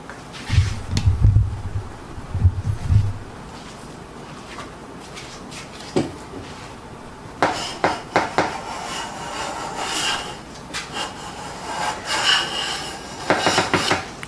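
An autoset hand plane shaves wood in a run of rasping strokes, some close and loud, others softer, with brief pauses between passes.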